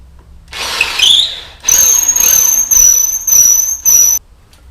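A power drill bores a hole into a wooden spear shaft, whirring up close in several loud bursts with a high-pitched whine, separated by short pauses as the trigger is released.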